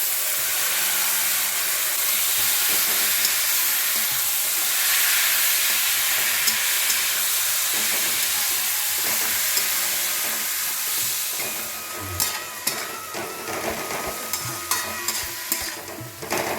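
Banana flower coated in spices frying in a pan, a steady hiss and sizzle with soft stirring scrapes, growing busier and clattering near the end, with no voices.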